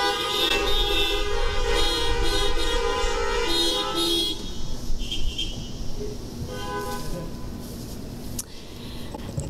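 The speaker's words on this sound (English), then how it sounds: "People in your car, you can wave to one another and honk your horns." Car horns honk at an outdoor drive-in Lutheran worship service, several overlapping toots and longer blasts sounding together at moderate distance, fading into quieter scattered honks over a steady background.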